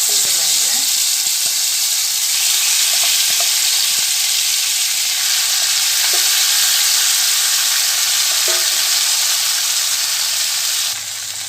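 Steady loud sizzling of mustard seeds and urad lentils frying in hot oil, with occasional pops and crackles throughout.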